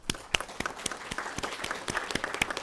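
A modest audience gives a round of applause to panelists at a knowledge valorisation conference, individual claps standing out crisply within a moderate, continuous patter.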